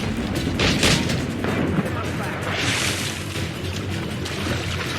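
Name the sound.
ship mortar fire in the video game Assassin's Creed Rogue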